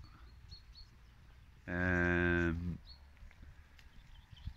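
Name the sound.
cows mooing, Galloway and shorthorn cattle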